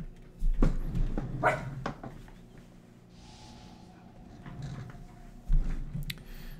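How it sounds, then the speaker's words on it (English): A pet dog barks in a few sharp bursts near the microphone, a cluster early on and another toward the end, with quieter snorts between. "And my dog barks at nothing, because he likes to do that."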